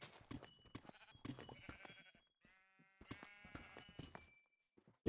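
Sheep in the Minecraft video game bleat repeatedly, several short wavering baas in two clusters separated by a quiet gap, clear and close.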